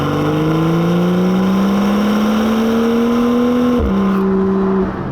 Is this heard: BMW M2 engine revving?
yes